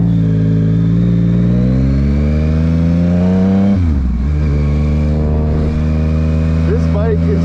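A 2023 Yamaha MT-09 motorcycle in power mode 3 accelerates hard, its engine note climbing steadily, briefly dropping at a shift, then pulling again; loud and close, with the rider talking over it.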